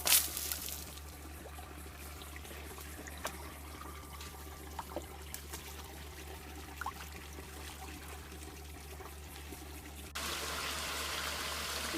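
Water running and trickling through a gold-prospecting sluice box set in the shade under a bridge on a hot day, a steady close wash with a low rhythmic pulsing underneath, rising to a louder rush near the end.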